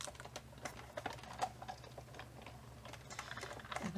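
A die cutting machine running paper leaves through a second pass, producing a steady low mechanical hum with soft irregular clicks and crinkles, close and faint.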